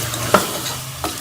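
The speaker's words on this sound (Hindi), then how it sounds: "बीफ का कलर चेंज होने तक हम इसे भून लेंगे और इसी के साथ हम इसमें ये लहसुन अदरक का पेस्ट भी शामिल कर लेंगे" Beef fries with garlic ginger paste in a pan for haleem, a steady close sizzle broken by two quick scraping stirs.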